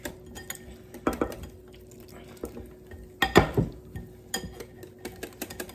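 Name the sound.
whisking fish batter in a bowl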